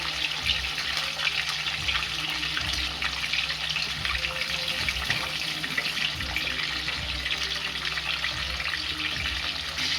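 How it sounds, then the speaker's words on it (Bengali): Small Rui fish fry in hot oil with a steady, loud, close sizzle and hiss that never lets up. No voices are heard. "ফার্স্টে মাছটাকে আমি ভালো করে ভেজে নিচ্ছি"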